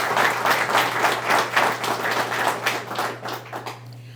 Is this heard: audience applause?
yes